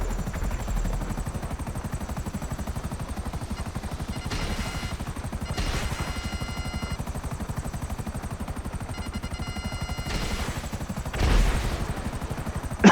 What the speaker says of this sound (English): I'm also getting shot at.